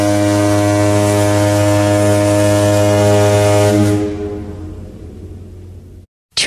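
A ferry horn blasts in one long, loud, steady tone with rich layered harmonics, then fades into a lower rumble before stopping.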